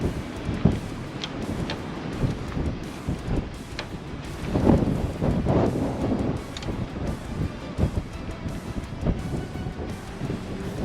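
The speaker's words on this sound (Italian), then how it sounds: "C'è un vento pazzesco" Strong gusting wind buffeting the microphone on an exposed mountain road during a motorcycle trip, loud rumbling bursts rising and falling continuously with no voices.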